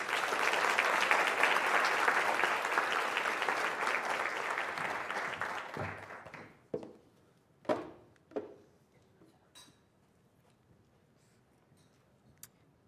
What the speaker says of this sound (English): Let's give Abby another round of applause.